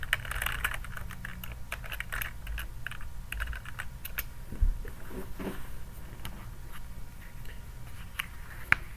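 Username and password go in on a computer keyboard as a quiet, steady patter of key taps, irregular in rhythm and continuous for several seconds.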